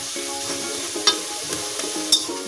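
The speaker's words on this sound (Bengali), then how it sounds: "বড়াটা প্রায় ভাজা হয়ে আসছে" Prawn antenna fritters frying in oil, producing a close, steady sizzle with bubbling and two sharp clinks of a utensil against the pan, and no talking.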